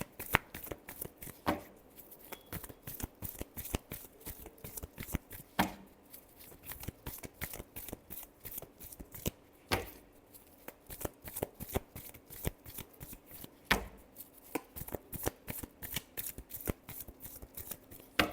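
A deck of tarot cards shuffled by hand, giving repeated quick flicking riffles and soft slaps in a fairly regular rhythm, close and clear.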